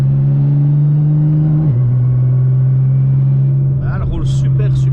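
A GTR 1600 car engine drones loudly at a steady rev, dips in pitch midway, then holds, with a voice speaking briefly over it near the end.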